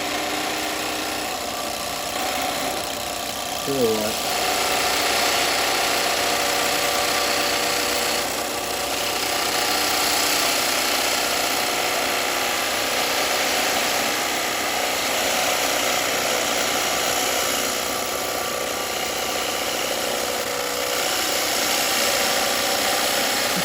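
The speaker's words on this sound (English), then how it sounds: "Right, long grind spindle gouge. I'm just going to take this down. Going to make a little bit of noise." Wet wood spins on a wood lathe as a long grind spindle gouge cuts it down, giving a loud, steady mechanical hum and rasp that runs continuously throughout. A voice speaks briefly near the start.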